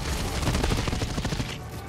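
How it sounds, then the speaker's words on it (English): Dense, loud gunfire in a PvP video game, with a rapid fusillade of overlapping shots crackling continuously for about two seconds before it briefly thins at the end. "Someone is shooting at me!"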